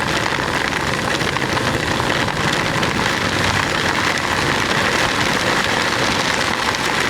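Heavy rain hisses in a dense, steady roar around a Yamaha YTX 125 motorcycle riding through Zambales, with a low engine drone beneath the downpour.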